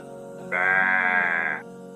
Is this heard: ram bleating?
yes